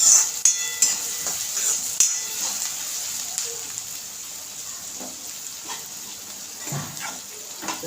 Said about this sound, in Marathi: हे भाजलं जातं रवा हे पण हलवून ठेवायचं